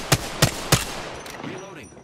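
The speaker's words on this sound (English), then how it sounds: "The enemies are shooting at me." Three sharp, loud gunshots ring out at an even pace from enemies in Apex Legends, each with a short echoing tail, followed by fainter game sounds.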